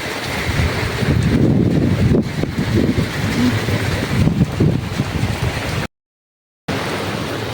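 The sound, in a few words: storm wind by the Koshi river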